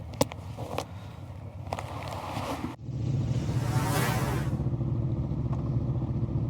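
Dozens of motorcycles at a large group ride meetup, a Kawasaki Ninja 650 among them, rumble steadily in a continuous low engine drone, with a rising whoosh of one bike revving or passing midway.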